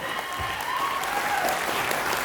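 Audience applause at a business motivational speech event, a short burst of steady, moderately loud clapping from a crowd.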